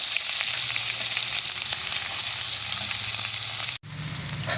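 Chopped onions fry in oil with black cumin seeds in a pan on a stove. A close, continuous sizzle holds steady with a brief dropout near the end, and no voices.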